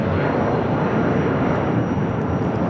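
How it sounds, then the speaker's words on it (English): United Airlines Boeing 757-200 taking off at Los Angeles airport, a dense, steady jet roar that fills the whole moment at strong level, with no talking. "1591 taking off to Houston Intercontinental on the 757-200"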